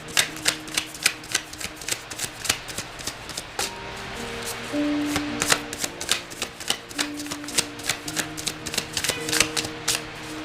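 Tarot cards shuffle with a run of close, crisp papery snaps and riffles in uneven bursts, briefly softening midway before the clicking resumes, with faint background tones and no voices.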